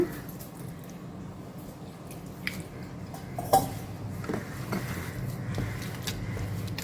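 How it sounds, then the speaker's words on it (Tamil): Ragi (finger millet) dough is kneaded by hand against the palm after water is sprinkled in, giving soft squishy, wet pressing sounds with occasional light clinks of a vessel, close and steady. "நல்லா பிசையணும் இப்படி நம்ம உள்ளங்கையில் வச்சு பிசையணும்"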